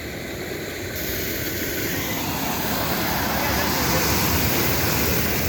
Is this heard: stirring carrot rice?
no